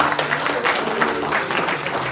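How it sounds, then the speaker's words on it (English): Sustained applause from a crowd at a gala dinner party, greeting the PRO and General Secretary as they are introduced; steady, dense clapping that carries on evenly without a break. "a round of applause for them"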